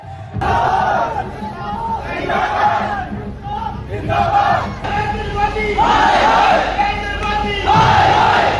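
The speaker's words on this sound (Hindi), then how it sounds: "लोगों ने मेट्रो स्टेशंस के अंदर ही नारे लगाने शुरू कर दिए" A large crowd chants slogans in unison inside metro stations, repeated rhythmic shouted phrases echoing loudly in an enclosed space, with a steady dense roar of voices underneath throughout.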